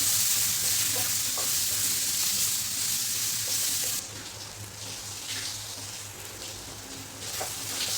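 Marinated mushrooms sauté in a pan for a mushroom masala, giving a steady, close sizzling hiss that softens slightly halfway through, with no talking.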